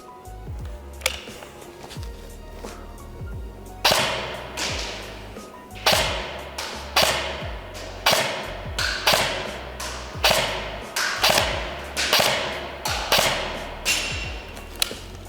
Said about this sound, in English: let's see what the MP5 can do